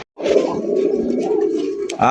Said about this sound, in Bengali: দেখেন কত সুন্দর একজোড়া কবুতর